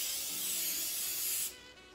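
Cooking spray hisses into a cake pan in one continuous, fairly loud burst of about one and a half seconds that then cuts off, leaving quiet room tone.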